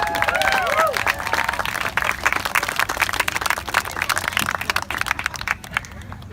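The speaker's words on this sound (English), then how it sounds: "Let's give them all a big round of applause." Audience applause sounds as a thick wash of many hands clapping, with crowd noise and a hint of cheering. It stays loud for most of its length, then thins and fades toward the end.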